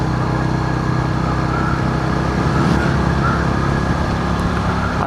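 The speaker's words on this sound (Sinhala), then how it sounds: "බයික් එක රිවර්ස් එකට ගන්නවා" A motorbike is reversed on a road near the Polgolla Barrage in Kandy, its engine giving a steady, close, low rumble that holds level throughout with no voices over it.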